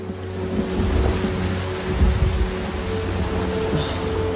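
Cartoon rain falls as a steady, fairly loud hiss with low rumbling underneath, continuing without a break and with no talking.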